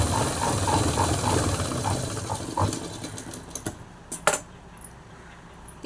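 A sewing machine stitches a joined blouse lining piece onto the original fabric, running in a fast, even mechanical whir, then stopping to a few clicks and clacks.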